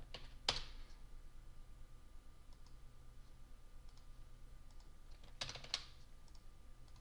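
Faint mouse and keyboard clicks from someone playing World of Warcraft as a Restoration Shaman, two short bursts of clicks, one near the start and another about five seconds later, over a quiet background hum.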